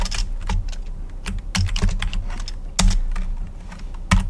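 Someone types quickly on a computer keyboard while editing a file in the vim editor. Crisp, close keystrokes come in irregular bursts, with a few heavier key presses standing out.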